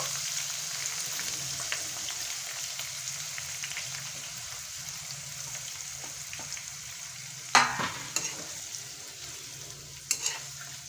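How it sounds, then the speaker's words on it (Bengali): Green chillies and beetroot for a beetroot pickle are stir-fried in a pan, a soft continuous sizzle broken by a sharp loud scrape and clatter of the spoon midway and a couple more near the end. "কাঁচা লঙ্কাগুলো দিয়ে দিচ্ছি এখন আমি বিটগুলো দিয়ে দেব"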